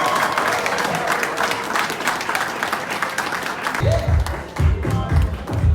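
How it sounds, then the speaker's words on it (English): A crowd at a brand anniversary event breaks into sustained applause for a winner being announced, dense and loud clapping that carries on as music with a thumping beat kicks in partway through. "A round of applause."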